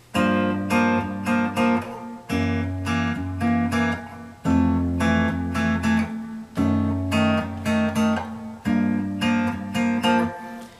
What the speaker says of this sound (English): a staccato muting pattern on the upper two notes while we're allowing the root note to ring